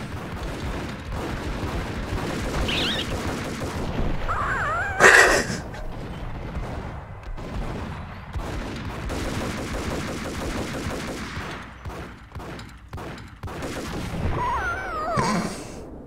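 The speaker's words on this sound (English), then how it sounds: "Oh god, they're shooting me." Enemy gunfire in the Max Payne video game, with bursts of shots and a loud blast crackling over a dense, constant game soundscape, heard without talk.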